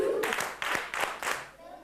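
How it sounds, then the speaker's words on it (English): A classroom of students claps hands together in short, uneven bursts, the clapping close and fairly loud, with a voice briefly audible at the start. "Can you just give a clap for the job that you have done today?"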